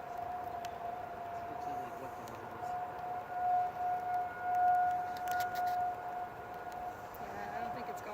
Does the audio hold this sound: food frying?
no